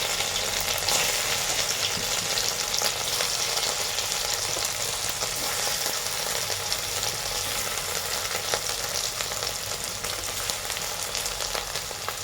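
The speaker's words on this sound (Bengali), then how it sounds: "এবার এক এক করে ধোকাগুলো দেবো ভাজার জন্য।" Pieces of cabbage and egg dhoka frying in hot oil give a steady, dense sizzle with crackling bursts that runs unbroken and fairly loud throughout, with no voices.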